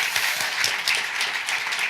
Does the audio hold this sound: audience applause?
yes